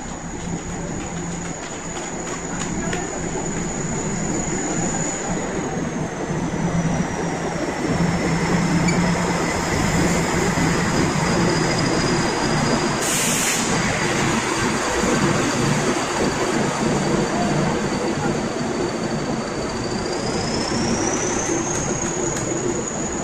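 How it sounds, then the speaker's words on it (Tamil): The Deccan Queen express train rolls into Mumbai CSMT station loudly with a rumbling wheel noise and a long high squeal of brakes or wheels, a brief sharp burst midway, then settles. "நம்ம டிராவல் பண்ண போகிற ட்ரெயின் வந்தாச்சு."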